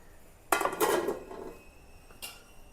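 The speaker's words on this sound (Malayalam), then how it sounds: "ഇളക്കട്ടെ" Metal spoon scraping and clinking against a pot of fish curry with mango in a short burst, then a single lighter clink after a pause; quiet room otherwise.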